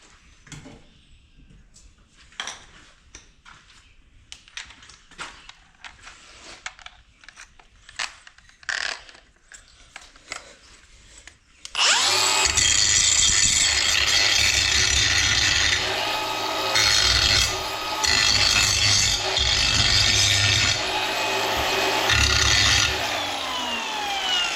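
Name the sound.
grinding burrs off drilled holes on a silage truck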